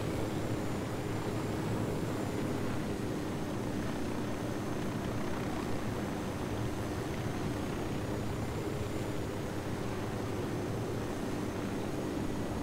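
A steady, loud rotor-and-engine drone from a helicopter in Ghost Recon Wildlands, holding a constant broadband roar with no breaks throughout.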